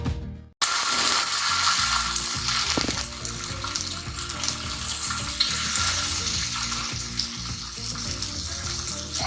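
Paneer tikka pieces frying on a hot tawa, a steady close sizzle with scraping and clinking of the utensil throughout, loud and continuous after a brief silent start.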